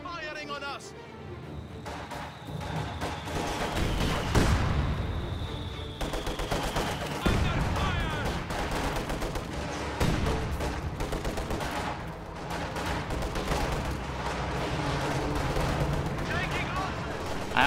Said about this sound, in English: The enemy is firing on us.